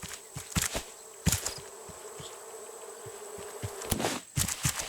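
Insect buzzing of bees in the survival video game RAFT, a faint, thin drone broken by sharp clicks and brief louder bursts of game sound effects.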